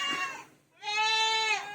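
Goats being let out in the morning to feed give two drawn-out bleats, close and loud, with a brief quiet gap between them.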